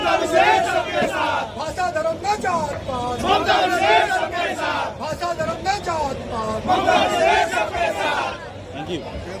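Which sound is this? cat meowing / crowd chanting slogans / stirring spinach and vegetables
crowd chanting slogans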